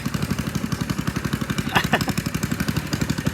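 The small engine of a country boat used by cockle collectors on Kerala backwaters chugs in a steady, even pulse, moderately quiet and close, with a short scraping burst in the middle.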